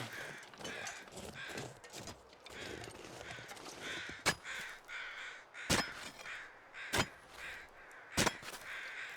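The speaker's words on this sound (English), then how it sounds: "Okay, the crows are out." Crows caw repeatedly in The Long Dark, the harsh calls landing in a loose series of four sharp, fairly close bursts over a quiet background of wind and faint footsteps.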